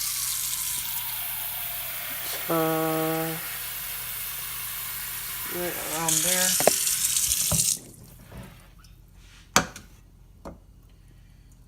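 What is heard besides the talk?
water filling a pot for ramen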